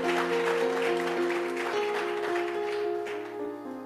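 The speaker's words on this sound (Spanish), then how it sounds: "Denle el aplauso fuerte a su Señor." A church congregation applauds loudly for several seconds while sustained organ or keyboard chords play underneath, and the clapping tapers off toward the end.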